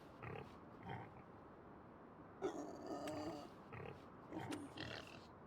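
Pigs in a pigsty in the farming video game Farming Simulator 25 grunt and oink in several low, snorting bursts, fairly close and quiet, with no talking.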